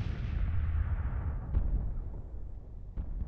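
Deep rumbling booms of Civil War-era artillery in a real-time strategy battle, a sustained roll of distant cannon fire with two sharper reports breaking through, no talk.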